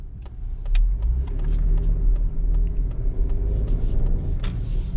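A 2020 Ford Explorer ST heard from the cabin while driving: a steady low engine and road rumble with brief swells as the revs rise, plus a few light clicks and rattles. No one speaks.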